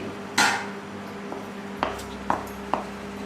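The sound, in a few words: kaju katli mixture being put into a greased steel plate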